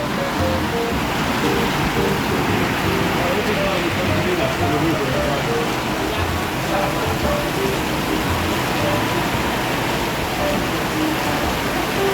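Steady rain falls in a constant hiss, with some faint background murmur and clinks mixed underneath.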